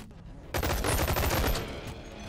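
Burst of gunfire striking the player in the VR shooter Boneworks: a sudden loud rapid volley of shots kicking in after a quiet half second, then tailing off.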